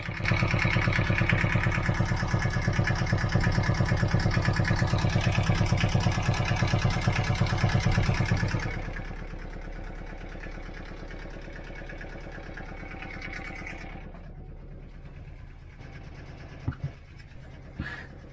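An old engine idles after its first start in years, loud and steady with a dense rapid pulse for about eight seconds, then dropping to a quieter, smoother idle that continues alone with a few small clicks near the end.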